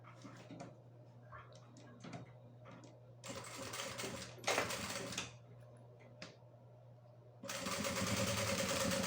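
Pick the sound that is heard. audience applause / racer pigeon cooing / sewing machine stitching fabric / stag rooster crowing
sewing machine stitching fabric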